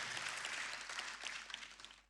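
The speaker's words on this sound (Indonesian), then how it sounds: "Tepuk tangannya yang sangat meriah." A church congregation applauds at a lively Miracle Night service, dense continuous clapping that swells across the space and tapers off toward the end.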